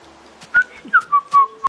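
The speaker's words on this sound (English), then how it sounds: "No whistling, that ruins videos." A person whistles a short melodic tune, clear and close, with several sustained rising and falling notes and no talking.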